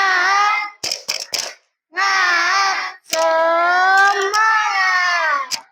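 A school class does the 'tepuk semangat' clapping chant: loud sustained group voices chanting in unison, broken by short bursts of sharp hand claps, all close and lively in a classroom.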